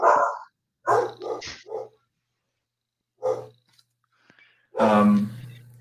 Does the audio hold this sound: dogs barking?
yes